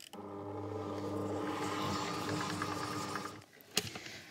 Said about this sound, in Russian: просто включить миксер, чтобы он пока работал и добавлял масло внутрь теста